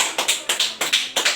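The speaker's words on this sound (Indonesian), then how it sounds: "Sekarang kita berikan aplaus untuk adik ini." A short round of applause in a classroom: about eight sharp, evenly spaced hand claps, close and fairly loud, with no voices.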